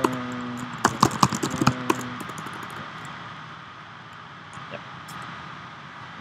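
A quick burst of keyboard keys clattering for about two seconds, then fading into a steady low background hiss.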